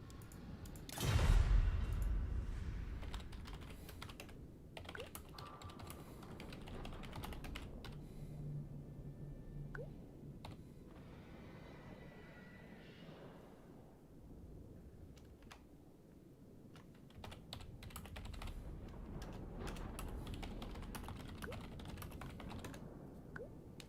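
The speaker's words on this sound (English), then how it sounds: "I realise you can't see that I'm typing to them" Someone types steadily on a computer keyboard during a multiplayer Total War Warhammer 2 tournament, a close, quiet patter of key clicks in irregular bursts over a low background hum, with a single sharper knock near the start.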